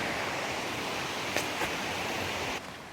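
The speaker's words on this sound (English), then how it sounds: "now we can see the waterfall" Steady broadband rushing of a waterfall on a backcountry trail in Georgia, constant and enveloping, with a couple of brief rustles partway through before the roar drops slightly near the end.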